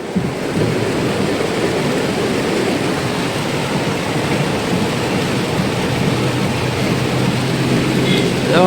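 Heavy rain pours down in Junagadh as a dense, steady roar of broadband noise that stays unbroken and fairly loud throughout.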